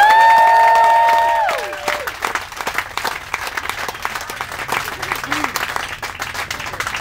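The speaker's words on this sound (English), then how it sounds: "Round of applause for you." A film crew on a TV comedy set gives a sustained round of applause with scattered cheers. The clapping fills the room and follows a brief tonal sound at the start.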